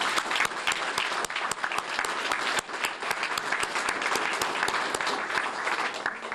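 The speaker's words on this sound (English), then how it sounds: "I'd like to do one more round of applause for all our awards." Sustained applause from an audience at a Pasadena, Texas police awards ceremony honoring officers, dense steady clapping throughout, loud and even with no talk over it.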